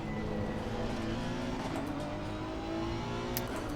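A Honda NSX race car in the Assetto Corsa Competizione racing game holds a loud, steady high-rev engine drone for a few seconds, with a brief sharp burst near the end.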